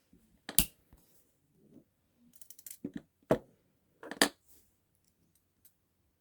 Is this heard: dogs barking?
no